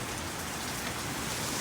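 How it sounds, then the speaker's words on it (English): Heavy rain during Hurricane Ian, a dense continuous hiss of downpour on surfaces, loud and steady with no break. "It's so wet and rainy though."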